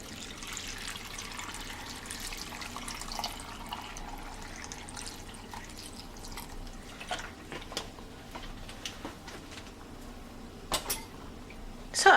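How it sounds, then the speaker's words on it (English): Water is poured into a blender jar holding chopped carrots and ginger for homemade carrot juice, a soft continuous trickle with a few faint clinks and knocks nearby, no voices. "So I'm gonna add water to make the carrot blend."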